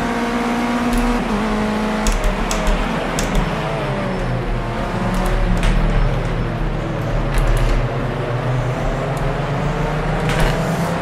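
A race car engine in heavy rain in the video game Project Cars 2, a loud continuous droning hum with shifting revs and faint ticks and splashes over about eleven seconds.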